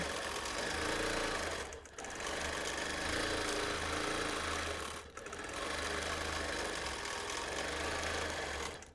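Home sewing machine free-motion quilting flame shapes onto a T-shirt quilt, a loud, close, fast mechanical whirr running continuously with two brief pauses where the stitching slows and restarts.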